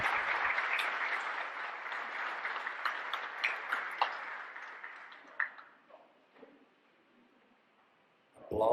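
A church congregation claps together in a long burst of applause that fills the room, then tapers off and fades to near silence before a brief new swell at the very end.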